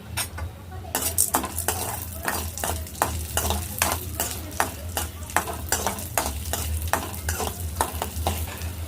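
Coriander seeds, fenugreek, cumin, dried red chillies and chana dal dry-roasting in a pan, with a spoon scraping and stirring in quick, steady strokes and a soft sizzle underneath, close and continuous.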